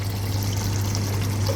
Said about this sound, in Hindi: अब मैं इस मौके पे आके तो पानी डालूंगा